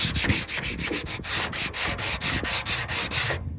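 A car door on a Kia being hand sanded with a sanding block, heard as fast, even back-and-forth scraping strokes, close and steady, ending abruptly, with no talking.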